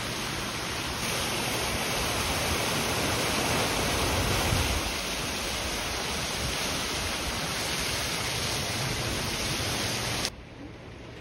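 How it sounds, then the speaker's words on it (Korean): An artificial waterfall pours in a loud, unbroken roaring rush that fills the scene, with the splash of water being caught by hand blending into it before the roar suddenly thins near the end. "손으로 폭포수 받기입니다."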